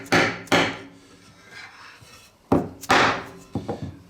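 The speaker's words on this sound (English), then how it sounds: "Let's hammer that in and just see how far it actually goes before it won't go anymore." Hammer blows drive a tapered sliding dovetail joint into a wooden board, a few sharp wooden knocks in two pairs with quieter rubbing between, near and alone.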